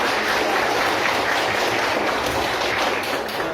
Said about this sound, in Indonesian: Benar semua. Tepuk tangan.